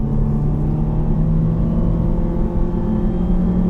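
A 2013 Nissan Juke Nismo in all-wheel drive accelerates from a launch, its engine note a loud, steady close-up drone with a rising tonal whine and no talk.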